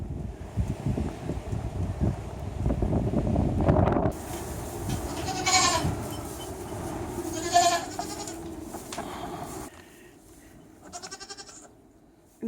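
Goats bleat on a farm during kidding season, several distinct bleats standing out over steady wind noise on the microphone, fairly close and loud, with a quieter patch near the end.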